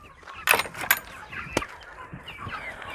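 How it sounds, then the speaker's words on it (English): Backyard meat chickens, including brown hens, cluck softly with a few sharper calls early on, close by and fairly quiet over a low background murmur. "Look, we got a really big chicken."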